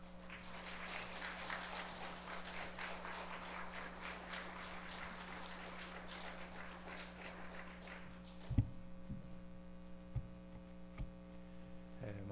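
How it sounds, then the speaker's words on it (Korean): A church congregation applauds a visiting pastor, steady clapping for about eight seconds over a constant electrical mains hum. It then stops, leaving the hum and a few isolated knocks. "우리 박수로 환영하시겠습니다"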